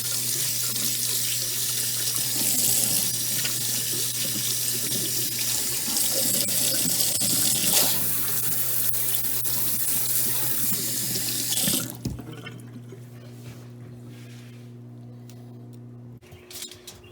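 Tap water running into a sink to rinse potatoes, a strong steady hiss and splash for about twelve seconds, then the tap shuts off leaving a low hum and a few faint knocks.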